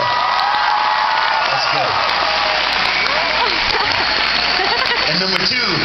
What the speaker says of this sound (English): Everybody just clap for the sound man.